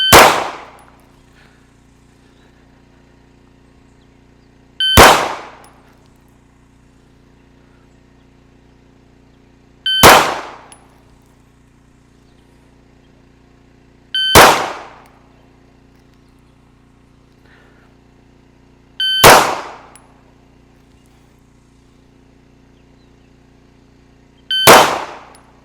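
Six sharp pistol shots ring out during a practical shooting drill, evenly spaced about five seconds apart, each a loud close crack with a short decay into quiet between.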